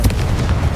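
Short, loud fiery blast from the Confringo spell in Hogwarts Legacy, a dense booming burst lasting under a second, close and alone.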